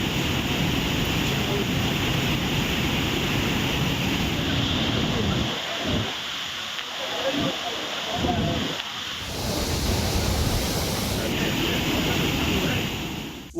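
Heavy rain has swollen a waterfall in Tenkasi into flood, producing a loud, continuous broadband roar of rushing water that dips briefly in the middle before surging back, with a voice talking over it.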